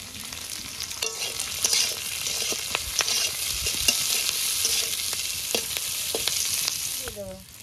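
Green chilies fry with onions in a pan with a steady moderate sizzle. Repeated scraping and tapping strokes of a spatula sound close by, with no talking.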